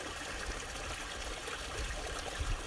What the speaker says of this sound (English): Bright sunlight and crystal clear water, and this beautiful running spring.